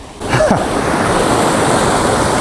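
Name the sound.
ocean waves breaking on the shore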